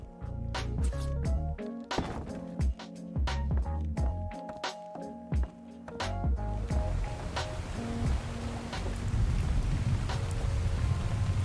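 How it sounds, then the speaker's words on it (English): In the ARK: Survival Evolved game, a thunderstorm rolls in: sharp, repeated crackles and booms of thunder at first, giving way to a dense, steady roar of heavy rain that keeps building. "Okay, so rain and thunder."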